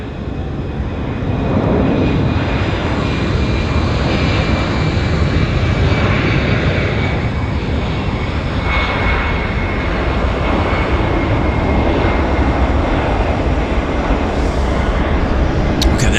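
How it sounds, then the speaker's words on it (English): A WestJet Boeing airliner is towed out at Vancouver YVR airport on a cold day. A steady, loud broadband aircraft engine roar holds for the whole stretch with a faint high whine above it. No one speaks. "WestJet dragging a Boeing out"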